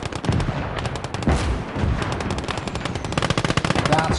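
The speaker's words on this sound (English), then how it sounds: "That's a cook-up from that Panzer IV, and that's got to be nice." Rapid, loud bursts of popping ammunition cooking off inside a burning Panzer IV tank in a World War II video game battle, crackling densely and continuously with heavy explosive thuds mixed in.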